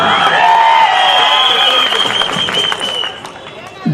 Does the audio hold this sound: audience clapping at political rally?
yes